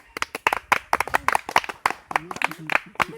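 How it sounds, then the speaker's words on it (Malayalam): Rhythmic hand clapping keeps a steady beat beneath a voice singing or reciting Malayalam verse, the sharp claps close and prominent throughout. "കയ്യടിക്കാം"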